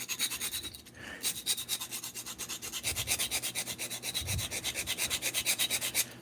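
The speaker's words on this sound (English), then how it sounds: "I need to sharpen the blade. Sandpaper probably won't be enough for this steel." Rhythmic rasping strokes of a dull steel blade drawn back and forth across sandpaper, steady and close, about a dozen passes per few seconds with no talking.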